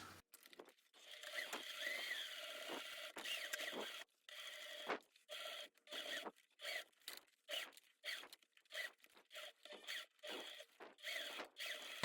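A sewing machine stitches a quarter-inch seam around both sides of a fabric mag bag, running in short bursts separated by brief pauses, close and moderately quiet with no talk.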